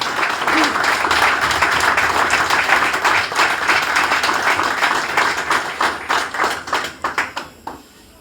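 A crowd claps steadily for several seconds, the applause thinning into scattered, separate claps toward the end.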